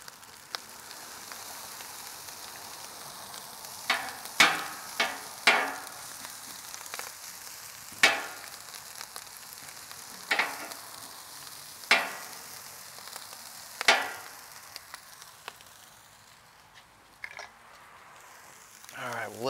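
Fried rice with chestnuts on a flat top grill gives a steady sizzle and popping, broken by several louder scraping stirs spaced a few seconds apart.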